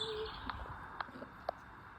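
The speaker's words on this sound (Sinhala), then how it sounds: "කුරුල්ලන්ගේ හඬ" Birdsong in Lee Valley Park, England, in the evening: a few short, faint chirps at roughly half-second spacing over quiet, distant outdoor ambience.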